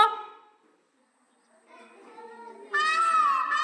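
A peacock's loud, harsh nasal wail rises after a quiet pause, preceded by fainter calls.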